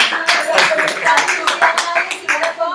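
A church congregation claps in praise, a fairly close burst of rhythmic hand claps in quick uneven pulses, with voices and singing running underneath.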